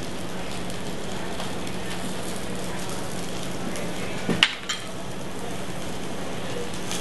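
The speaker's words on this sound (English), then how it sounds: "we're just going to let those caramelize a little bit in this pan" Red and white onions sizzling and frying in a pan, a steady close crackling hiss throughout with one brief sharp clatter near the end.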